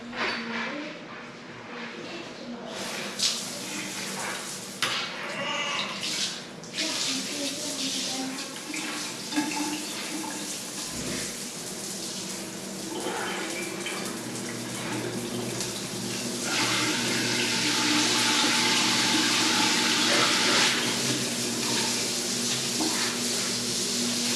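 Water runs steadily from a newly finished custom tile shower after a valve extension kit was fitted. It is a continuous hissing spray that grows a little louder and brighter in the second half, with faint voices underneath.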